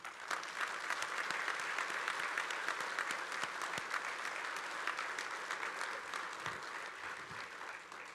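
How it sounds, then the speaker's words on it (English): Sustained audience applause at a union keynote convention honoring union officers and staff, a dense steady wash of many hands clapping throughout, fairly distant and even in level. "They deserve a round of applause as well."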